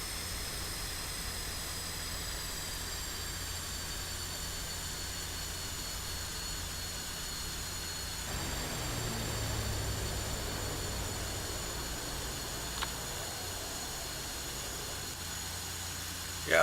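An F-5E Tiger II jet engine roars steadily in DCS World during a takeoff roll on the runway, a constant loud whine and rush with a brief swell midway and a faint click near the end.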